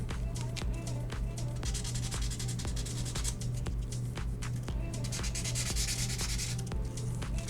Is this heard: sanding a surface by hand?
yes